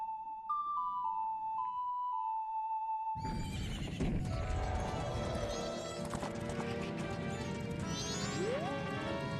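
A horse in the video game Zelda: Majora's Mask neighs amid clopping hooves and a loud burst of crashing game noise, after a short stretch of soft electronic tones.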